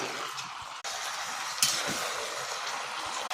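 Meat with chili paste sizzling and frying in a kadai, a steady broadband crackle running throughout with a brief stir or clink near the middle, close and fairly loud, no talking.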